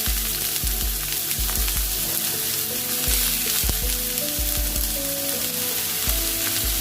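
Onion and capsicum sizzle steadily in hot oil with mustard seeds, a dense continuous frying hiss with occasional stirring knocks, close and loud with no voices.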